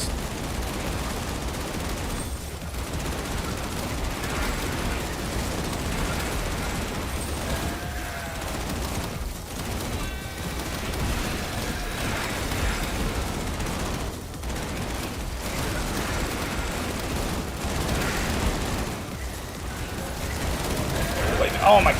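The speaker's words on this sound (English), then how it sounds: "The minigun's just a bit too strong." Minigun fire in a video game: sustained mechanical rattling bursts of rapid fire running through most of the stretch, mid-level and steady with brief breaks, mixed with game noise and occasional talk.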